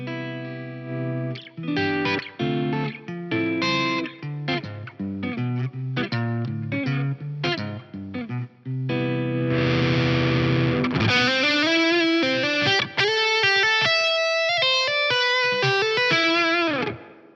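Clean, mellow electric guitar chords on the neck pickup, tone and volume turned down, strummed in short jazzy stabs, then a run of brighter, more sustained notes with a chorus-like shimmer.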